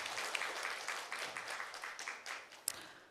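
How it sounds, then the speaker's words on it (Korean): Applause fills a hall at a children's care policy forum in Daejeon, a faint, distant patter of many hands clapping steadily throughout. "전상규 팀장님께 큰 박수 또 한번 부탁드리겠습니다"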